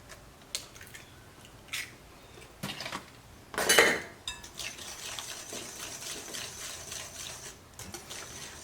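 A spoon stirs eggs one by one into pumpkin bread batter of sugars, oil and buttermilk in a bowl, with scattered clinks and knocks against the bowl, a louder scraping burst, then a softer continuous mixing swish, close and without talk.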